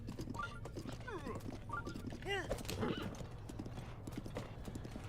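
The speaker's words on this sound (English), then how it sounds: "Eventually the horse is not going to be able to follow us." Hoofbeats of a horse in the Zelda: Breath of the Wild video game, a steady clip-clop running throughout with a couple of whinnies and neighs in the middle, mixed with game music and effects.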